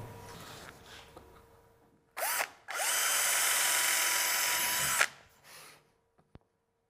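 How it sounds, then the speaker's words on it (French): A hammer drill bores holes into wooden construction battens, a short burst followed by a longer steady high-pitched whirring run that spins down, with a few small knocks afterward, close and loud. "Alors, pour les deux lattes de construction, nous allons percer les trous."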